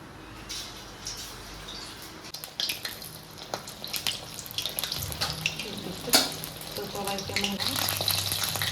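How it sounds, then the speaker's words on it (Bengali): Pieces of flour dough for a vegetarian Bengali dish are dropped one by one into hot oil, bubbling and crackling with rising sizzles and splashes up close. Someone talks intermittently. "তেলটা গরম হয়ে গেছে, এবার দেখি ভেজে নিই।"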